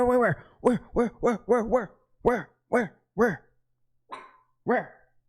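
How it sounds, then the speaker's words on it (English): A dog barks loudly and close by, around ten sharp barks in quick uneven bursts with short pauses between. "Buddy's like barking."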